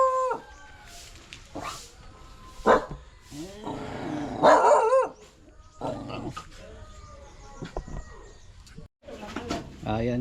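Dog barking in an outdoor setting, several sharp barks scattered among people talking, with a louder burst midway and bird calls nearby.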